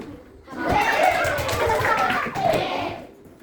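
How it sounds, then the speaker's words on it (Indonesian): Children in a sixth-grade coding class clap their hands in a burst of applause, mixed with young voices and light laughter, close by. "Ya, ya tepuk tangan, tebakannya."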